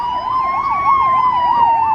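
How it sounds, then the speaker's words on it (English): Ambulance siren wailing in a steady up-and-down sweep on a street in Jericho, loud and fairly close, continuous throughout with faint road noise beneath. "Nope, it's an ambulance."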